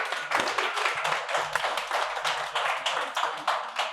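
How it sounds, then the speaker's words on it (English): An audience applauds Rob Riggle as he is welcomed onstage, brisk clapping with distinct close hand claps in a quick irregular rhythm and a low murmur underneath. "please give a round of applause for Mr."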